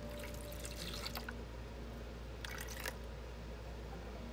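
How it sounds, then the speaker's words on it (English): Buttermilk poured into a bowl of cornbread batter made with home-ground cornmeal and flour: a soft, close liquid trickle with two brief pouring bursts over a steady low background, no talking. "I'm going to start out with just 1 cup of buttermilk"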